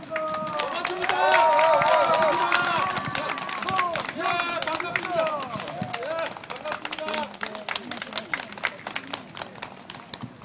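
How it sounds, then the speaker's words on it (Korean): Campaign rally crowd for a Daegu Dalseo-eul candidate applauds loudly and steadily, with cheering and crowd babble mixed in over loudspeaker music; the clapping thins out toward the end. "박수!"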